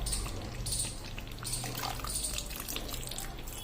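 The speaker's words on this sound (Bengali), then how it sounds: "হালকা পরিমাণ এর মধ্যে জল দেবো" Water pours into a pan of chicken kosha gravy, a soft continuous splashing and trickling with faint drips, fairly quiet and close, with no talking.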